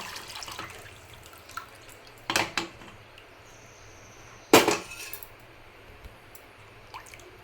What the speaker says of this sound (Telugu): ఇప్పుడు ఈ వాటర్ అనేది మొత్తం ఇందులోకి వేసుకోవాలి